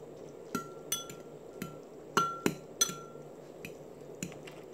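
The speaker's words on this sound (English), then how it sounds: "So I'm gonna stir in my cheese." A spoon stirs cheese into a cup of milk in a small glass, striking the glass in a string of sharp, ringing clinks at uneven intervals, close and clear, with no speech.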